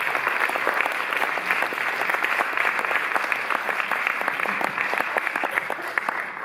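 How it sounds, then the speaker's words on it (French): An audience in a concert hall applauds after a drawn-comic music concert at the Palais de la Porte Dorée. Dense, loud, sustained clapping from many hands fills the whole clip. "Tous les applaudissements."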